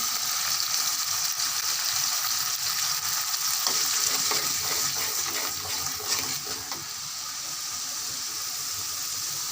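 Dried chilli powder sizzling and frying in hot oil for a sweet-and-spicy pickle, a steady dense crackle with occasional stirring scrapes, close and continuous throughout.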